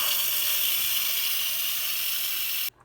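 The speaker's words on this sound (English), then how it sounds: "I'm going to manually release the pressure by taking this nozzle and turning it toward me to release all the steam" Steam hisses loudly and steadily from an Instant Pot's turned nozzle during a manual pressure release while cooking BBQ ribs, a continuous broadband rush that cuts off abruptly near the end.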